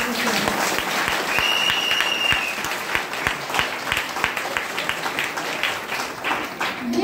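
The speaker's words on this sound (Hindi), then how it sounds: "जोरदार ताली बजाइए" A seminar crowd gives sustained, loud applause, with many hands clapping in a dense rhythm for several seconds. The clapping carries on evenly with a few sharp claps standing out near the listener.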